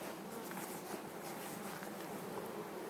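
A bee swarm flying outdoors near a wall, making a dense, steady buzzing hum that fills the whole moment without a break.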